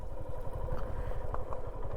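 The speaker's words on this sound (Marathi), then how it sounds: "We can go by this bike bro." A motorcycle engine idles nearby with a steady low chugging pulse, a continuous rhythmic putter with light clatter on top and no voices.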